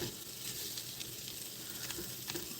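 Shrimp with tails on frying in a pan, a steady close sizzle with scattered pops and spatters, starting to burn, with no talking.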